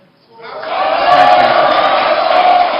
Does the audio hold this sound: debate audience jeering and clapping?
yes